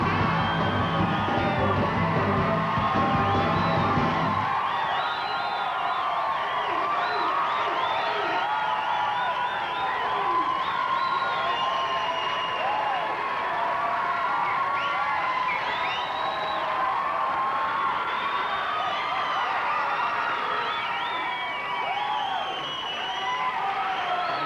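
A television studio audience greets comedian Dennis Miller with sustained applause, cheering, whoops and yells. The dense crowd noise stays steady and loud throughout, and a brief musical sting opens it.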